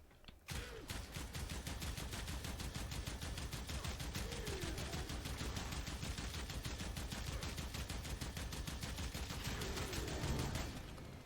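Rapid continuous automatic fire from the Kohm shotgun in Warframe, a dense, steady stream of shots lasting about ten seconds at even loudness, with no talking.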